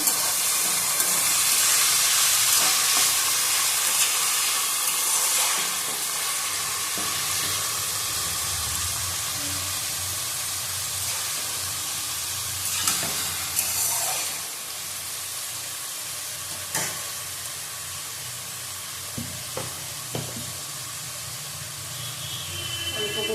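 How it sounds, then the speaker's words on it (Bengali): Chicken frying in a pan with sugar and whole garam masala, a continuous loud sizzling hiss throughout, with a few scraping clinks and faint background voices. "ভালো করে ভেজে নেবো"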